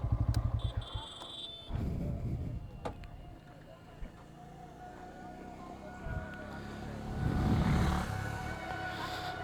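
A motorcycle engine idles and revs unevenly nearby, with brief clatter and a louder surge of engine noise toward the end.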